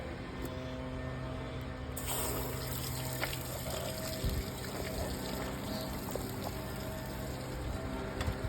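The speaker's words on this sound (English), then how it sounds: "Let's turn the water on." Water runs steadily from a hose or tap to flush a 5.7 liter Mercruiser inboard/outboard boat engine during winterizing, a continuous close rushing and trickling that starts up and keeps flowing without talk.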